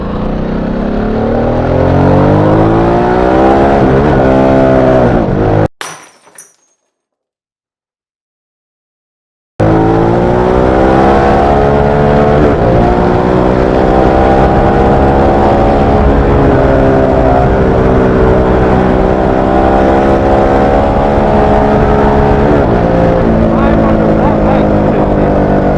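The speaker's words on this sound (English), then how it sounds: "it does remind you that you are on an interesting V-twin motor" A Harley Davidson Sportster S V-twin cruiser engine pulls hard and loud with rising and falling revs, cut by a brief silence partway through, with a rider talking over the riding noise.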